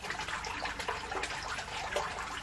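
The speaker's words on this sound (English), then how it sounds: "water from the other grow bed is just about to start to flush" Water flushing out of an aquaponics grow bed through a bell siphon valve, a steady broadband gush and trickle that runs unbroken and fairly loud throughout, with no voices.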